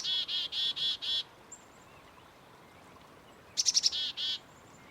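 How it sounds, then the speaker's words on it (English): Chickadee calls in a wintry outdoor setting: a run of five even buzzy notes, a pause with faint background hiss, then a quick stuttering burst followed by two more buzzy notes, clear and fairly near. "Chickadees were named for their call, which sounds like chickadee-dee-dee."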